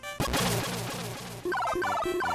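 Bird enemies in the video game Dr. Jekyll and Mr. Hyde crow in loud, harsh, gobbling bursts, first a long squawk and then several quick repeated calls in a steady rhythm.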